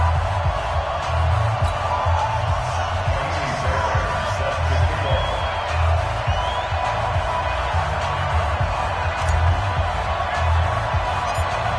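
A stadium crowd from an EA Sports NFL football video game, Buccaneers versus Falcons, keeps up a steady, loud roar throughout with murmuring swells, without a break.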